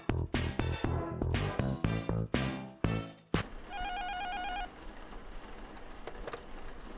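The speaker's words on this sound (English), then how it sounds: "Phone call." Telephone ringing inside a video game, a short electronic trill heard after a run of loud percussive hits, followed by quieter ambient clicks.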